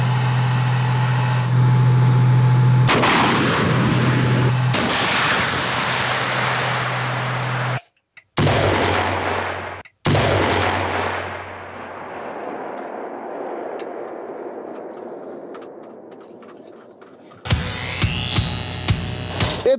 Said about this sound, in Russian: мы будем вести стрельбу ракетами «Атака-Т» по мишени